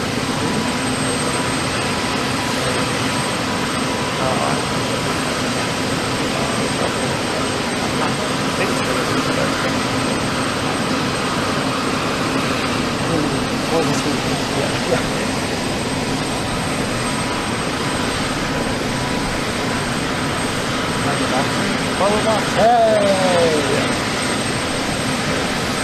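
A steady aircraft engine roar continues close by outside a parked or taxiing plane at an outdoor event, with people talking over it and a brief whining sweep near the end.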